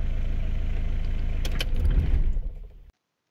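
A car engine, started with difficulty on a vehicle whose diesel fuel gauge is faulty, runs at a steady close-up idle with a low throb. A brief rattle comes just before the engine shuts off and the sound cuts to silence.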